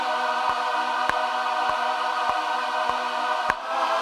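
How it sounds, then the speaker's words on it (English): Sustained gospel ensemble choir chords from a Logic instrument, a full, steady vocal pad held throughout with sharp ticking clicks at regular intervals and a chord shift near the end. "I just use this regular gospel ensemble in Logic"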